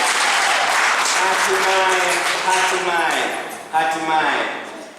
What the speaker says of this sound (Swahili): Jipigieni makofi ya shangwe